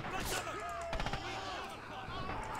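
Gunfire in the World War II shooter Red Orchestra 2, with several sharp shots and a brief burst cracking over a busy battlefield din, fairly loud and close, no talking.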